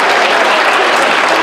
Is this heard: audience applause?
yes